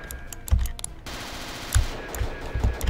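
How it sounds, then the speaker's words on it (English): Rapid bursts of chain gun fire from the chest-mounted weapon of a boss enemy in the video game Castle Totenkopf, loud and close, broken into several short volleys. "he's got a big old chain gun in his chest"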